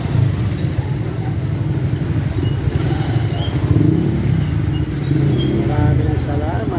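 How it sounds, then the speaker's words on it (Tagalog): Street traffic of tricycles, motorcycles and other vehicles rumbles past in a continuous, busy engine drone with passing surges, while a person talks over it throughout. "Yan mga dumarang dito, yung mga tricycle, mga single motor, tapos mga sakyan, kaya pagkakasabay-sabay maingay"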